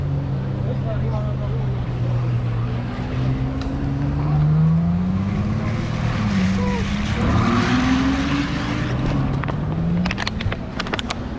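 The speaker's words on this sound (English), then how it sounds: "there's some seriously nice cars coming past" Cars roll past one after another on a street in Cannes, their engine notes rising and falling as each nears and fades, over steady traffic rumble.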